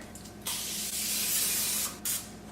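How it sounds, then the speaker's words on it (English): Pam cooking spray misted over a baking pan to grease it, one long close hiss followed by a second short burst, alone without talk. "I still need to grease this, right? Yes, grease the pan. Good thing I have my girl Pam right here."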